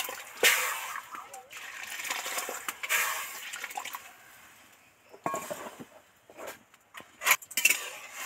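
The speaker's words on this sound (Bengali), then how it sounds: "এবার এই ডালটা কড়ার মধ্যে দিয়ে দেব।" Washed urad dal tipped into a wok, giving wet splashing and sloshing bursts with small clinks, loudest early and again near the end, with quieter gaps between.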